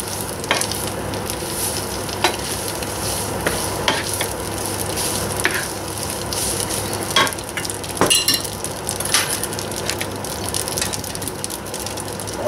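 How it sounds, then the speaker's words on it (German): Spaghetti is tossed into frying bacon in a pan, with a continuous sizzle and occasional clicks and scrapes as the pasta is stirred and turned. "Ich schneide jetzt die Spaghetti hier in den Speck."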